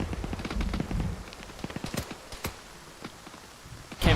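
Scattered gunshots in the military game Arma, irregular cracks at moderate distance with short pauses, ending in a louder burst.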